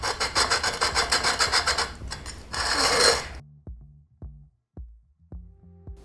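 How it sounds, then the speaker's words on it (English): Sandpaper rubbing steadily back and forth over the freshly cut edge of a glass bottle, a dense gritty scrape for about three seconds, then a few light taps and handling knocks in near silence. "I went through the different sandpaper grits, starting at the roughest and eventually ending at the finest."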